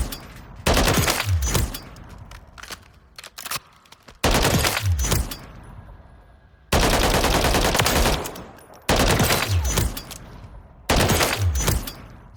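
Automatic fire from a G36K rifle in Call of Duty Modern Warfare III, sounding as five loud, sustained bursts separated by short pauses, with no talking.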